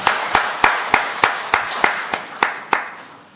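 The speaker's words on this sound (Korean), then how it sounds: "하나님께 영광의 박수를 보내겠습니다." A small church congregation claps together in a steady, even rhythm, about ten sharp hand claps in a few seconds, close and fading at the end.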